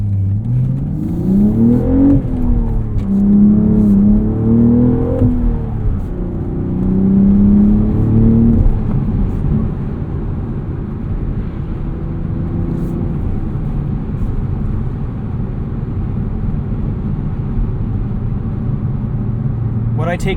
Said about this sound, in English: Let's get on the highway, see what this sounds like at speed with the roof up.